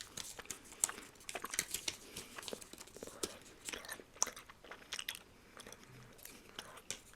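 Someone chewing a piece of Pepsi-flavoured Japanese gum, with soft, close, irregular moist chewing and light crunchy clicks repeating steadily throughout, quiet and with no talking.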